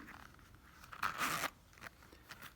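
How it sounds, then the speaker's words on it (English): Locking Riri zipper on a handmade leather wallet modeled on Iron Heart designs, pulled in one brisk rasping run of about half a second, close and fairly quiet, with faint handling rustles around it. "I added a locking zipper."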